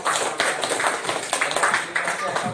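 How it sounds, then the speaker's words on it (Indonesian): A classroom of students claps for a classmate after her presentation. The applause is brief and busy, with overlapping claps and voices talking over it. "Beri aplaus buat Aira."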